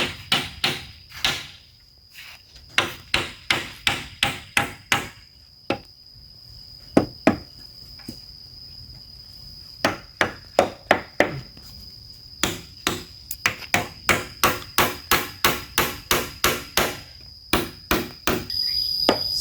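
Hammer driving nails into wood while a clothes-hanging rack is built outdoors: dozens of sharp, loud knocks in quick steady runs with short pauses between, with a constant high insect drone behind them.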